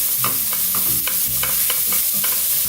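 Cabbage tossed into a hot pan with dried red chillies, curry leaves and browned urad dal, stirred with repeated scraping strokes over a steady close sizzle, no talking.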